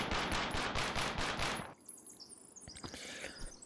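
Rapid automatic gunfire in a shooter video game, loud and dense for about a second and a half, then breaking into scattered shots and effects.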